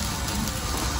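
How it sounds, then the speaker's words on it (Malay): Heavy rain pours steadily outdoors at a rural home village, a dense, continuous roar of drops hitting surfaces with no pauses and no voices. "Dah hujan sangat. Dah hujan dah."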